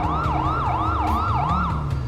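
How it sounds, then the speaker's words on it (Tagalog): Loud, close emergency vehicle siren wailing in a rapid repeating up-and-down sweep, steady throughout over a low engine rumble. "Driver, may wangwang."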